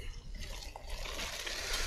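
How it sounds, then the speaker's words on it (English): Hot, boiled raspberry and elderflower mixture being poured into an ice cream machine: a soft, steady liquid pour and trickle, close and fairly quiet, with no talk. "But you bring this to the boil and just pour it in,"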